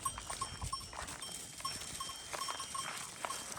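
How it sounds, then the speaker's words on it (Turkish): A flock of sheep moves through a field, with a steady mix of hoof shuffling, rustling and clinking bells spread across the scene, moderately distant and fairly quiet. "Koyunlar gidiyor, geliyor."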